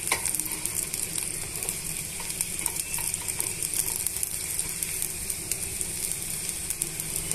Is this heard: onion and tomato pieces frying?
yes